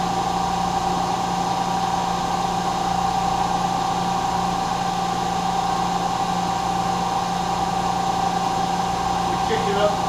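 A milling machine spins its cutter at 324 RPM, giving a steady, even mechanical hum with a constant tonal whine that holds unchanged throughout, close and continuous with no pauses.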